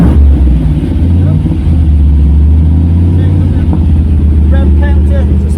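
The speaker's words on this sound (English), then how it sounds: "I think I'll start it up. Do you want to hear it?" An AC Cobra's engine runs loud and close with a deep, steady rumble throughout, and voices can be heard talking over it.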